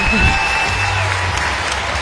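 Sustained applause and scattered cheers roll through Alumni Arena as fans stand for the seniors at a Buffalo vs. Bowling Green women's basketball game, while an announcer talks over the clapping.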